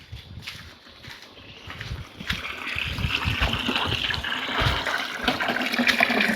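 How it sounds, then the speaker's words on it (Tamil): Natural spring water flowing at a hillside temple shrine, a steady splashing trickle that builds and grows louder, heard alone without talk. "இந்த ஊற்று தாங்க."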